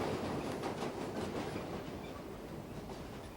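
A New York subway A train rolls steadily along elevated tracks through Harlem, a continuous loud rumble with rhythmic clickety-clack of wheels over rail joints and no voices.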